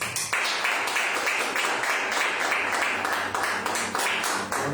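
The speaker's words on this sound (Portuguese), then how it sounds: "Que as palmas agradeçam o nome de Jesus" A church congregation claps their hands together in a steady, dense wash of applause that holds at an even level for several seconds, with no voices rising above it.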